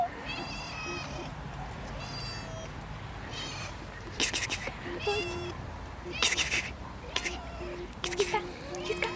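A cat meows repeatedly in short, clear, close calls during outdoor shashlik cooking, mixed with people talking and a few sharp knocks.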